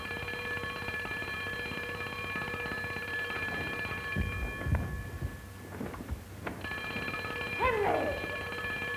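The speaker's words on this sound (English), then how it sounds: "Henry, the alarm is ringing." A mechanical alarm clock rings with a steady, continuous metallic trill, in a 1934 film setting; a few dull thumps and rustles pass midway while the ring carries on almost unbroken.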